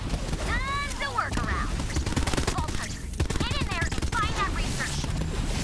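Rapid automatic gunfire in the shooter Borderlands 3 rattles continuously through the whole stretch, with game voices and tonal effects layered over the shots.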